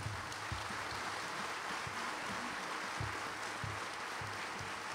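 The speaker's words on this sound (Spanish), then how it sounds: "Voy a pedir un fuerte aplauso." A theatre audience at an accordion concert applauds for a friend on his birthday, a steady wash of many hands clapping that sounds somewhat distant and hissy.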